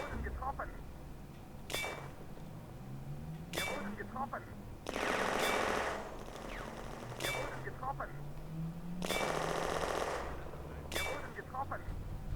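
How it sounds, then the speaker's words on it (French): Bursts of automatic gunfire from the video game Firefight rattle out in repeated sustained volleys, separated by single sharp shots and pauses, with a voice talking over them. "il tire et il perd beaucoup de munitions pour rien là"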